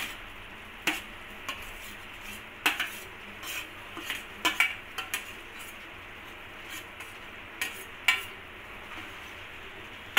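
A utensil stirs grated coconut into melted jaggery in a pan, with quiet scrapes and light metallic clinks of spoon against pan, irregular and close, over a faint background hiss.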